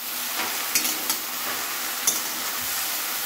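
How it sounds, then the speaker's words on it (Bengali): Okra and potato curry sizzles and fries steadily in a pan, a continuous close hiss broken by a few soft stirring scrapes and clicks, with no talking. "ঢ্যাঁড়স আলুর তরকারিটা একটু করে নিচ্ছি"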